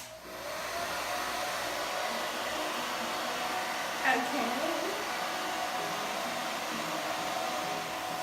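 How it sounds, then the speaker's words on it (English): A bonnet hair dryer runs on its low warm setting, giving a steady, even airy whoosh throughout, with a brief voice rising over it for a moment. "I'm gonna go ahead and turn on the blow dryer. I'm gonna put it on the warm setting and I'm gonna turn it on low."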